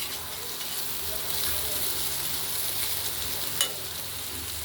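Bitter gourd, pumpkin and potato fry steadily in oil in a wok, a continuous close sizzle with occasional stirring and one brief sharp clink partway through.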